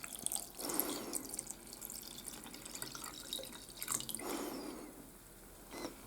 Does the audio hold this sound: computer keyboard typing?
no